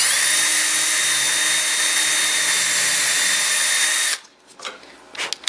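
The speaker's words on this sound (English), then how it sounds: "the fastest drill you have, because speed contributes to a clean hole when you're drilling in wood" A power drill bores a wider hole in wood with a loud, steady high whine that runs for about four seconds, then cuts off and is followed by a few faint clatters.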